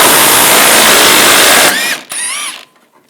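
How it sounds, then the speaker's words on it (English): A 15mm socket on a ratchet works a bumper bracket bolt under a 2014-2018 GMC Sierra, with loud broadband grinding and clicking for a couple of seconds, then a few short squeaky ratchet strokes that fade to quiet. "Underneath, we're going to take this bolt out"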